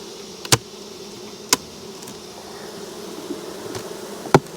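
A soft, steady honey bee drone hums low throughout, with a few sharp knocks and taps of hive boxes punctuating it outdoors.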